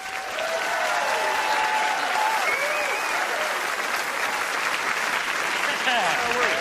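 Loud, sustained applause from a comedy-club audience at the end of a stand-up set, filling the clip with dense, even clapping and a few voices in the crowd.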